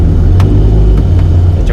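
A Suzuki Jimny Katana Sierra engine rumbles loud and close, a steady low idle with a few faint clicks on top.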